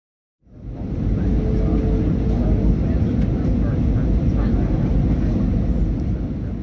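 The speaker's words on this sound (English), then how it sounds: "Here is our last shot of St. Martin as the plane turned towards the west and headed for home." A passenger airplane in flight departing St. Martin gives a loud, steady engine drone and cabin rumble that swells in quickly and holds constant throughout.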